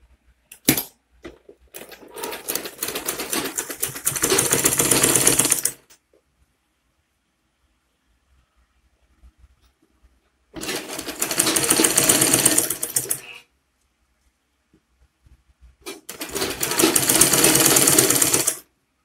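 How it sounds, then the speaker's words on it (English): A sewing machine top-stitches Ankara fabric for a flat cap, running in three loud, steady bursts of rapid needle chatter separated by silent pauses. "Now to top stitch one part of it."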